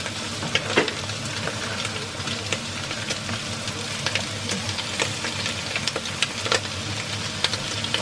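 Carrots, onion and other vegetables sautéing in a pot for minestrone soup, a continuous close sizzle and crackle with sharp pops and occasional stirring scrapes throughout.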